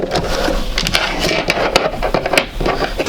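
A sewing machine stitches backwards and then forwards, making a fast, steady run of clattering needle strokes close by, with no talk.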